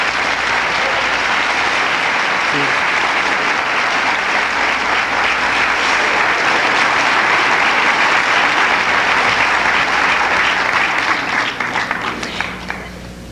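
A graduation audience applauds loudly and continuously for an award winner, a dense wash of clapping that lasts throughout and thins slightly at the end.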